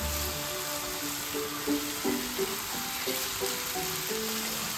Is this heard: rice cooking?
yes